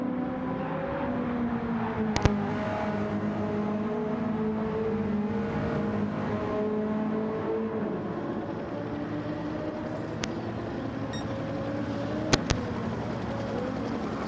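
Race cars in a racing game circle the Barcelona rallycross track, engines whining and shifting pitch as they accelerate and ease off, a steady drone punctuated by a few sharp clicks.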